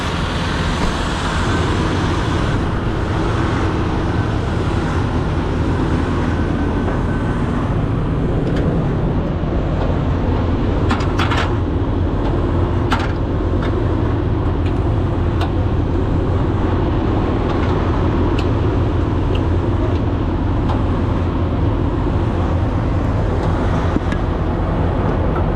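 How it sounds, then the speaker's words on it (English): A truck engine holds a steady fast idle, a continuous rumbling drone that runs unbroken and fairly loud for the whole stretch, with no voices. "if you turn on the fast idle, it'll stay idling"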